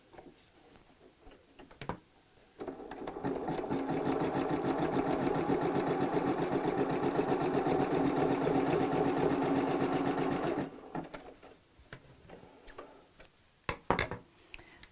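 A domestic sewing machine stitches patchwork bag pieces together, a steady rapid run of about eight seconds in the middle, with quiet handling clicks and rustles before and after.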